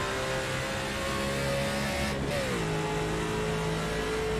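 A NASCAR race car engine at Talladega roars loud and close, held at high revs with a brief drop and climb in pitch mid-clip as if shifting, then continuing its sustained drone.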